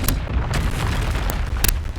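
A Confringo spell explodes in Hogwarts Legacy, with short booming blasts and pops over a dense, rumbling game soundscape across about two seconds.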